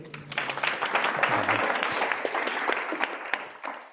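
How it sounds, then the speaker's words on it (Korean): Applause for a speaker at the close of a talk session, a room of hands clapping that swells and then thins toward the end. A brief voice sounds near the start. "마지막 큰 박수 부탁드리겠습니다"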